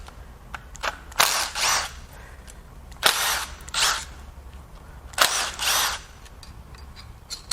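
Power tools take the rear main seal plate off a BMW N63 4.4L twin-turbo V8 during teardown, with three close bursts of whirring, each a double pulse, separated by quiet gaps and small clicks.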